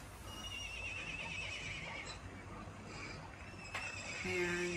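A horse neighs from a 4D animal hologram clip, the whinny played back thinly over a steady hum along with a few clip-clop sounds, quiet and slightly distant.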